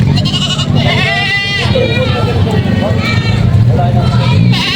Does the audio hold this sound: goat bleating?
yes